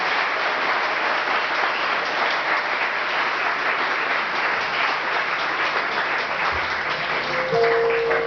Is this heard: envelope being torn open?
no